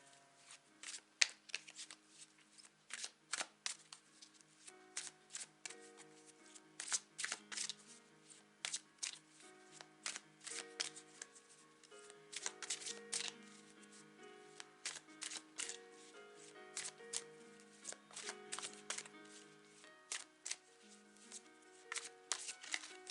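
A deck of tarot cards shuffled by hand at close range, with repeated crisp riffling bursts and soft flicks in an irregular rhythm throughout, quiet and without talk.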